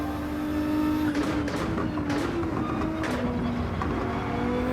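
Corvette race car accelerating in Gran Turismo 7: a steady, loud engine drone that rises and falls slightly in pitch, with brief bursts of tyre or gear noise layered over the continuous roar.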